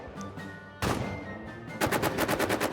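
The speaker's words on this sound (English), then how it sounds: "Very low danger, but suppressed by machine gun fire." Gunfire in a First World War trench combat video game: one sharp loud shot, then a rapid, evenly spaced machine-gun burst that rattles close and loud over a constant battlefield rumble.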